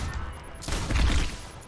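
A burst of rapid gunfire in Deus Ex: Human Revolution swells up suddenly after a quieter moment, a loud dense rattle that fades over about a second.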